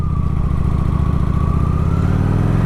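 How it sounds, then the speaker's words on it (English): A motorcycle engine at practice holds a loud, steady, close drone with a slowly rising pitch as the revs climb, heard alone without speech. "Probably hear my RPMs going up, but I'm not going any faster"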